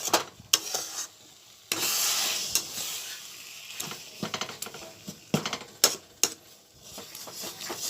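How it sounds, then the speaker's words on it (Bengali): Chickpea dal mixture stirred in a pan over low heat, a spoon scraping and clinking against the metal in irregular strokes over a soft, steady sizzle, close and fairly quiet with no talking. "ভালোভাবে এটা কষিয়ে নেব যতক্ষণ না জলটা টেনে যাচ্ছে, ততক্ষণ আমরা এইভাবে হালকা আঁচে নাড়তে থাকবো।"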